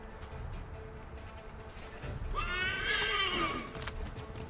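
A horse whinnies loudly in Assassin's Creed III, a long wavering neigh rising out of steady hoofbeats and outdoor game ambience, fairly close.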